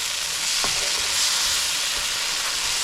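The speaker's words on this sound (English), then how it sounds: "So let's mix it well." Vegetables for Nepalese masala pasta being stirred and sizzling in a pan, a steady close frying hiss with occasional soft scrapes of the spoon, alone without talk.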